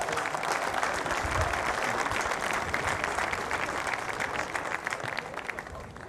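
Sustained applause from a crowd honoring both teams after a youth girls' Australian rules football match, dense steady clapping lasting throughout and easing slightly toward the end.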